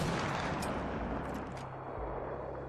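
In Apex Legends, a Longbow semi-auto sniper rifle fires a single heavy shot that cracks loudly at the start, then decays into a rumbling tail, with a second fainter report partway through.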